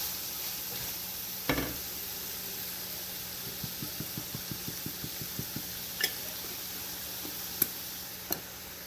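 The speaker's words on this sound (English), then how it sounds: "Stir it up." Picadillo with cumin sizzles steadily in a pan, broad hiss throughout, while a spoon scrapes and stirs in a quick run of about a dozen even taps, with a few sharper clinks near and distinct.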